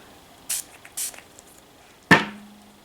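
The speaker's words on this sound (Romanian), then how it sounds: "am aplicat puțin spray pe pensulă" Makeup setting spray misted onto a makeup brush: two short soft hissing bursts in quick succession, close and fairly quiet, followed by a sharper click-like tap with a brief ringing tone.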